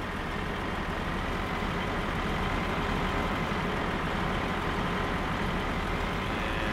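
Harvester working a field in Farming Simulator 2013, a steady, unbroken heavy diesel engine drone with a broad rumbling hum and no pauses, heard alone.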